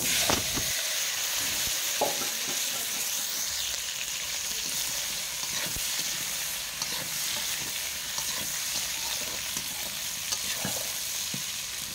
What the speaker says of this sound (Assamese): এতিয়া মই আলুখিনি ভাজি ল'ম।